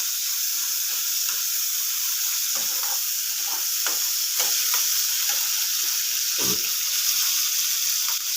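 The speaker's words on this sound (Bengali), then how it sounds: "তেলের মধ্যে কাঁচা পেঁয়াজ, রসুন আর কাঁচা লঙ্কা দিয়ে ভালো করে নাড়তে থাকলাম" Raw onion, garlic and green chillies fry in oil for a fish-scrap chochchori, a steady bright sizzle with repeated scraping stirs of a spatula across the pan, close and loud throughout.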